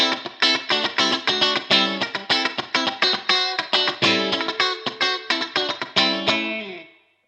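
Electric guitar playing a rapid, rhythmic funky riff with a quacky, nasal tone, strummed notes evenly spaced, ending on a ringing chord.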